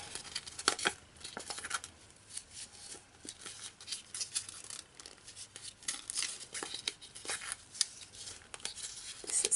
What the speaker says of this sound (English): just do your best to fold it back and forth every 1/4 of an inch